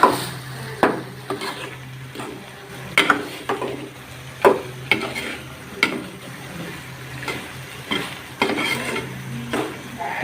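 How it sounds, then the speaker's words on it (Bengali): A wooden spoon stirs mustard paste into kochur loti (taro stolons) in a pan, giving repeated knocks and scrapes against the pan at an irregular pace, close and fairly clear, with a low steady hum behind. "সরষে দেওয়ার পর একটু নেড়ে ফেলে দেব।"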